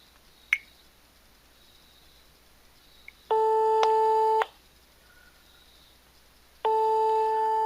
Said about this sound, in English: I'm going to use my cell phone and I'm going to call my home.